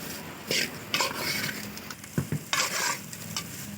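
Bread pieces for an egg curry fry in a pan, with scraping stirs and sizzling bursts coming in short irregular strokes, close up and without talk.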